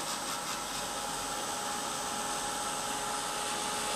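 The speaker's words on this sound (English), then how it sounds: "I'm just going to use the heat gun really quickly just to dry it a little bit." A heat gun blows steadily while drying paint on a canvas, a loud, constant broadband whoosh held close to the microphone for the whole stretch with no pauses.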